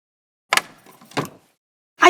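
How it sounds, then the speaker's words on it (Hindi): A house door opening, heard as two short clunking bursts about half a second apart, a latch click and a swing, followed by another sharp knock-like sound at the end, with no talking. "आई अभी खोलती हूँ दरवाजा।"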